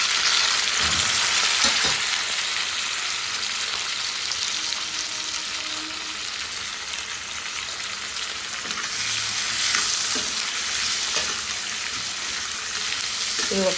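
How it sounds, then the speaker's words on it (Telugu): Chopped onion and tomato fry in a pan, giving a loud, continuous sizzle up close. Occasional stirring scrapes and soft clatter break through it, and it swells slightly in the middle and toward the end. "ఇప్పుడు ఉల్లిపాయ టమాటా రెండు వేసేసుకుంటున్నాం"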